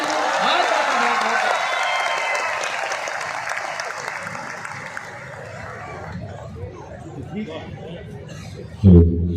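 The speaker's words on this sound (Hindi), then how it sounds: "उसके बाद भी इतनी कम तालियां" Audience applause after a Hindi poetry recitation at the Khajuraho film festival, a dense, steady clapping crowd with some chatter that tapers off toward the end, capped by a brief loud thump.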